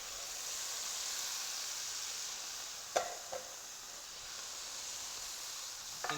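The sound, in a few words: peas and corn added to fried rice, sizzling in pan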